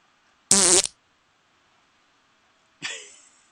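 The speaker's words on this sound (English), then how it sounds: "I can hear the farts." Two fart sounds played over a prank phone call: a loud, buzzy burst near the start, then a shorter, fading one after a pause of quiet line hiss.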